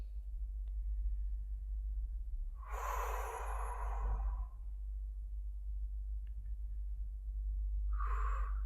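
Slow, audible breaths during a pause of stillness in a vinyasa yoga class: one long exhale, then a shorter one several seconds later, fairly close over a steady low hum.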